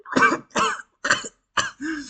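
A voice imitates a cough with five short, rough bursts in quick succession, close and fairly loud.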